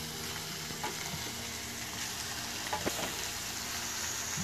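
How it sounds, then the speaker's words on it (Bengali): Spice masala for a mutton curry sizzles in a pan, a steady close frying hiss broken by a few scraping stirs. "এই মশলাটা যত বেশি ভাজা হবে ততই ভালো হবে"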